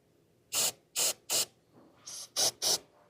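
Aerosol lubricant sprayed onto a seat motor gear and joint in a Genesis GV80 gives six short, close hissing bursts, three evenly spaced, a brief pause, then three more.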